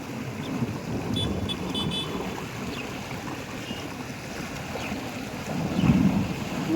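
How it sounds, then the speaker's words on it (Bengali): Water roars continuously in a large whirlpool at a river dam, a broad rumbling wash mixed with gusty wind buffeting the microphone, swelling louder near the end. "এই দেখো কি বিশাল আওয়াজ, ঘূর্ণি কি।"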